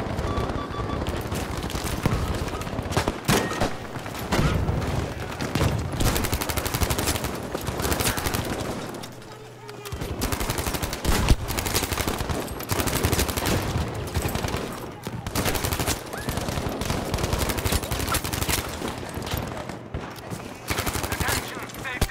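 Hip-fired gunfire in Battlefield 5: continuous, loud rapid shooting and automatic bursts with battlefield noise throughout, a brief dip in the middle, and voices talking over it.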